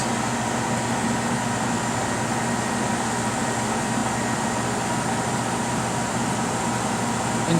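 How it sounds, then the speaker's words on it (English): Plasma-Therm System VII Batchtop RIE plasma etcher chamber pumping down with throttle and roughing valves open, a steady, loud broadband whir and hum with a low rumble, unchanging throughout. "So right now the chamber is pumping down and the valves are open."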